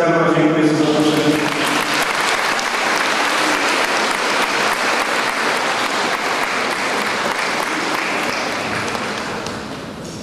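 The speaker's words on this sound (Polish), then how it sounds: "Gorące brawa" Warm, sustained applause from an audience at a town's 300th-anniversary celebration, loud and dense throughout, thinning slightly toward the end; a voice is briefly heard at the start.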